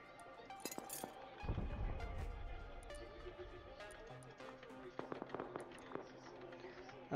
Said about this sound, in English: I don't like these gunshots I'm hearing, I really don't.